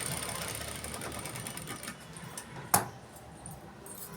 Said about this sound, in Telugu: లైనింగ్ మీద నుంచి మెల్లగా మెయిన్ క్లాత్ మీద కుట్టు పడకుండా ఇలా లైనింగ్ మీద కుట్టు వేయాలి